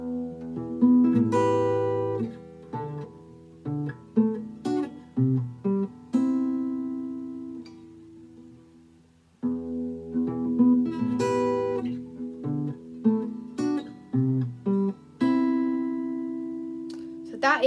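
Guitar picking a song intro, open-string arpeggios with ringing notes in a steady pattern, played alone with a short pause midway before the figure repeats.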